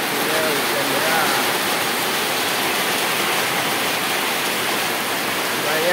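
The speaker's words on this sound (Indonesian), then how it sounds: "Nah, ini sepertinya hujan deras." Heavy rain pours down in Java, Indonesia, a loud, unbroken hiss that stays level throughout.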